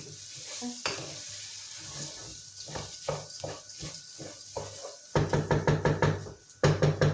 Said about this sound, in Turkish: Yeterince kavuruyorum.